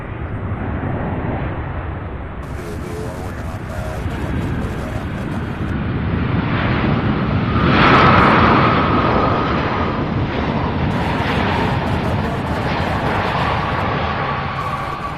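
An MD-11 jet arriving at Louisville airport sends a broad rumbling roar that swells toward the middle and then holds. A faint thin whine runs through it.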